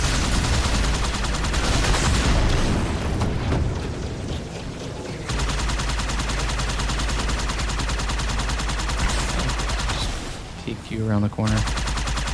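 Halo 2 campaign battle, loud dense bursts of gunfire and explosive booms layered over game sound, easing off near the end, with a voice talking over it.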